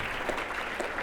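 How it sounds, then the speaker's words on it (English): Audience applauding three students at an education summit, a dense, even burst of clapping from a crowd, heard briefly at steady volume. "Let's give a round of applause for our 3 students from Dinuba"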